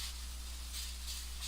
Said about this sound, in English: I'm going to give it a good starch.